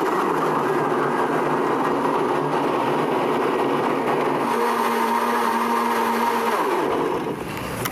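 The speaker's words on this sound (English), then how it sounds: "And then we turn on our blender." A countertop blender whirs loudly while mixing a banana chocolate smoothie, a steady motor drone that shifts pitch midway as the contents settle, then winds down near the end.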